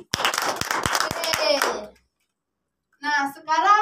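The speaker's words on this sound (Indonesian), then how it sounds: "Tepuk tangan." A classroom of children claps together in a quick burst of sharp, overlapping claps lasting under two seconds, followed by a pause and then young voices speaking.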